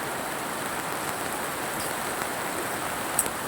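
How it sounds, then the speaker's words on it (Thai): Steady rain falls outdoors, a continuous even hiss of drops with one faint tap near the end, heard alone without voices. "ฝนตกแล้ว ฝนไรเหรอพี่น้อง"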